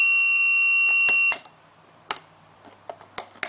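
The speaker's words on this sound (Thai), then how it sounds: "เสียงบัสเซอร์ก็ดังอีกครั้งหนึ่งนะครับ" A steady high buzzer from a CPLD-built digital alarm clock sounds for over a second, then cuts off, leaving quiet with a few faint clicks.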